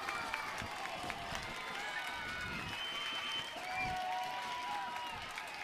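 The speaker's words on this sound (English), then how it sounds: "The LBC uniting in thunderous applause" A stadium crowd at a UCLA versus Long Beach State college softball game applauds and cheers steadily at a moderate distance, a broad wash of clapping and voices after a two-out triple.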